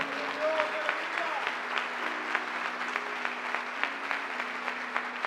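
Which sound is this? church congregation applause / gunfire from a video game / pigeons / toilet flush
church congregation applause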